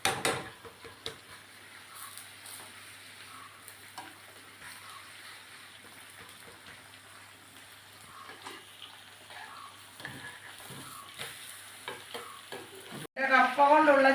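A kappa pathal, a tapioca (cassava) flatbread, fries on a pan with a little sunflower oil, a soft steady sizzle running throughout and a louder burst of frying at the very end.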